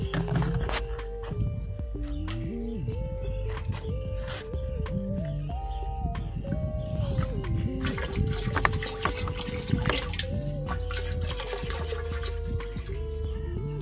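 Liquid bacteria culture pours into water in a container, making a continuous gurgling, trickling stream, close and steady throughout, with music playing underneath.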